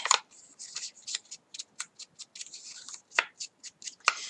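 Paper edges are roughed up by hand while customising a notebook, a quick run of dry, scratchy scraping strokes in an irregular rhythm, close and fairly quiet, with no talking.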